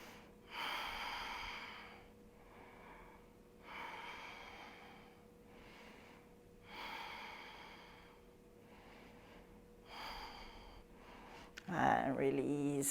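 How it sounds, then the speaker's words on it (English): Slow, deep breaths during a post-run stretching routine, several long airy inhales and exhales spaced a few seconds apart, fairly close and soft over a faint steady hum, ending in a brief louder rustle. "5 more breaths"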